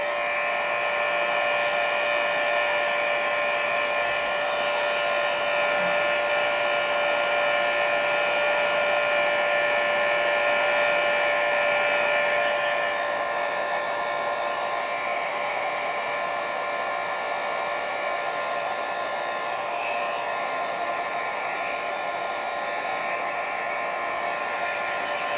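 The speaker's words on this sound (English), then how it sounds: "So now I'm going to quickly blow dry this before I do anything over top." A hair dryer blows steadily over freshly painted fluid acrylics, a loud, continuous whirring hum with no pauses and no talking.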